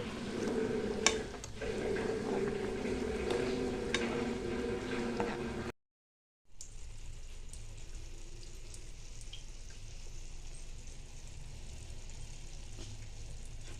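Capsicum masala curry simmering on a low flame, giving a faint, steady bubbling sizzle with a few soft taps, broken by a brief gap of silence partway through.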